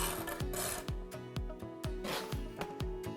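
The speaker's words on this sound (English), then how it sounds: "If you cut the mortar like this, it rolls away from the wall and collects on the trowel" A steel trowel scrapes and cuts mortar beside a block wall in a quick series of close, rasping strokes, each ending in a short tap, repeating at a fairly even rhythm.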